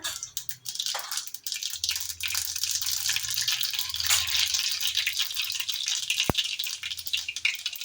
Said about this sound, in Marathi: आपण तेल तापत ठेवलेलं आहे कढईमध्ये। जिरं मोहरी टाकून घ्या।